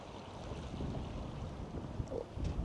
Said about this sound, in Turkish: Çok rüzgar var çünkü